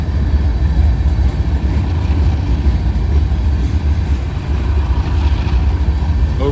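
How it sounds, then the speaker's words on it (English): A train rolls through a railway crossing near Hamilton, a steady, loud low rumble of rail cars holding at close range for the whole stretch, with no voices over it. "Got another train."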